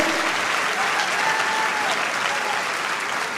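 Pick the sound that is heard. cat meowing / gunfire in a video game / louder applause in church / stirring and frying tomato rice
louder applause in church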